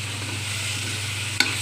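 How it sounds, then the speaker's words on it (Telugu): Chicken pieces seasoned with salt and chili fry in oil with a steady, close sizzling hiss, broken near the end by a single sharp clink of a utensil, with no talking. "ఫ్రై చేసి ముక్కలు తీసేస్తున్నాను."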